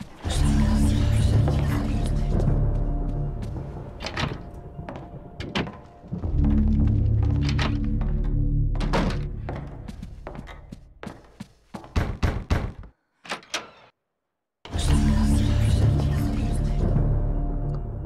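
Footsteps and knocking in the GameCube game Eternal Darkness: irregular hollow thuds and taps repeat over a dense, loud background mix, then break off into near silence before the mix resumes.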